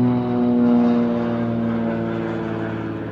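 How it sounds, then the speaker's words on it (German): A propeller airplane drones overhead in a steady, continuous hum with a strong low tonal whine, fairly loud and close, running throughout with no voices. "Nee, es ist ein Flugzeug."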